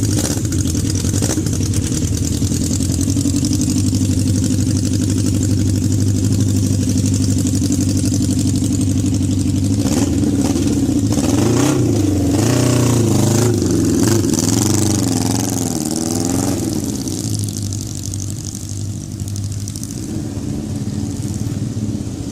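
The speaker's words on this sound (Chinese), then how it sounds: "我就停下来欣赏一下他们帅气的改装摩托车好了" Several modified motorcycles idle loudly at close range in an open plaza at a Thailand–Malaysia border crossing, a steady engine rumble with a few revs swelling in the middle.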